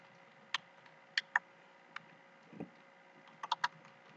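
Computer keyboard typing while entering data into an Excel spreadsheet, sparse irregular keystroke clicks in small bursts, close and fairly quiet against a low background hum.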